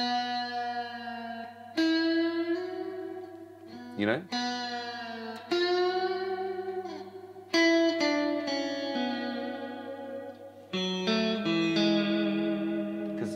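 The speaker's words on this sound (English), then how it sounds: "you can go a bit crazier on the reverb" An electric guitar solo drenched in heavy reverb rings out in sustained, bending notes with distortion and effects, phrases restarting every couple of seconds, while a voice speaks briefly.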